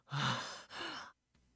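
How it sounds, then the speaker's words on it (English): Strained, breathy gasping from a character in the visual novel Robotics;Notes Elite, catching her breath after being released from a sleeper hold around the neck; two long ragged breaths followed by a faint trailing exhale, close and alone. "I desperately gasp for air."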